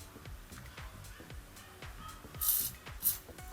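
WD-40 is sprayed lightly onto bike joints in two short hissing bursts near the end, over a steady rhythmic ticking of a spinning bicycle mechanism.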